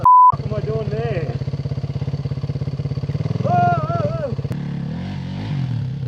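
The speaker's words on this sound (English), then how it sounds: "As we made our way up Heartbreak Hill, there were bikes everywhere." Dirt bikes, including a Yamaha WR250R, KTM and Suzuki DRZ, climb a muddy trail hill, with a steady droning engine close by and a brief rising rev partway through, all under background noise.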